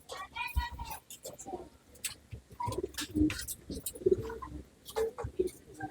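A blue-shaded male long-flying pigeon gives soft, low cooing calls at close range, repeated in short bursts, with faint whispery voices and some handling noise in the background.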